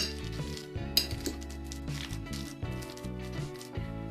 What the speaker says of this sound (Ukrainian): Солимо, перчимо і додаємо майонез і перемішуємо.